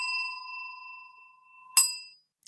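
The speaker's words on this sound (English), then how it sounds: "then we get to ring a bell like this." A bell rings once with a bright ding that sustains and slowly decays, followed by a second louder struck ding; no one speaks over it.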